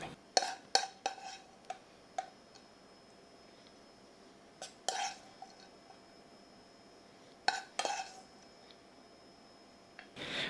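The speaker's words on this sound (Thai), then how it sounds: "นี่เดี๋ยวเราตักเสิร์ฟใส่จานได้เลยนะครับ" Vegetarian fried rice scooped from a pan onto a plate: a handful of sharp, close clinks and scrapes of utensil on dish, irregularly spaced with quiet pauses between.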